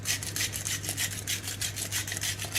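Salt ground by hand into cornmeal pancake batter for cast-iron strawberry pancakes, a steady close rasping grind in rapid repeated strokes over a low constant hum, with no talking.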